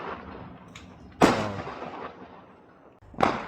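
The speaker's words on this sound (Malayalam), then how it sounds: "പിന്നെ അതെ ഇവിടെ നല്ല രീതിയിൽ ഫയർ വർക്ക്സ് നടക്കുന്നുണ്ട്." Fireworks on Guy Fawkes night in Auckland, New Zealand: two distant booming bangs a couple of seconds apart, each trailing off in a rolling echo over quiet night air.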